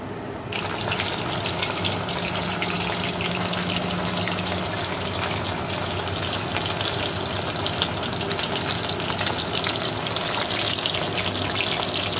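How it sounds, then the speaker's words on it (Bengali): Steady, loud sizzling and crackling of pakoras frying in hot oil in a kadai, continuous throughout with no talking. "তেলটা ভালো করে গরম হলে পকোড়াগুলো দিয়ে দেবো"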